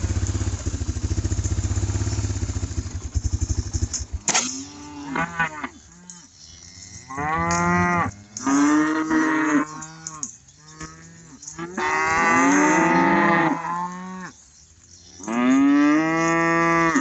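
Cattle at a farm with a lame yearling in the herd, lowing in several long, drawn-out moos close by, one after another with short gaps, under a low engine-like rumble at the start.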